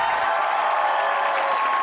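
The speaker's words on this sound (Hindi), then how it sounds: "आपकी भरपूर तालियों में बुलाऊंगा सैयद सलमान गिलानी साहब को." A studio audience applauds to welcome a guest on a Pakistani comedy talk show, dense steady clapping filling the room at even loudness from start to finish.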